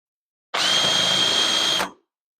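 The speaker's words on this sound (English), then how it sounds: "The self-aligning VIX bit has a small pilot drill and a spring-loaded sleeve that allows it to center up" A self-centering Vix bit with a small pilot drill and spring-loaded sleeve bores a pilot hole in a pull-out table tray, one steady high whine of the power drill lasting under two seconds, close and loud, with no talk.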